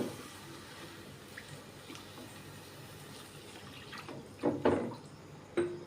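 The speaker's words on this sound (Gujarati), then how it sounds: "તો હવે આપણે આમાં પાણી એડ કરી દઈશું" Water poured into a pot of cooked vegetables for a soup: a soft, steady hiss of liquid that builds into a few louder splashing bursts near the end, close and without talk.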